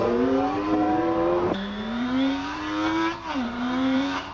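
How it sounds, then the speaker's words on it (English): An AI-generated motorcycle engine revs steadily and close. Its pitch climbs, drops sharply as if shifting gear, climbs again and dips once more, staying loud throughout with no voices. "Engine sound grows louder."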